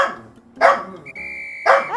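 A dog barks twice behind a person gaming, two loud sharp bursts close by with a steady tone between them.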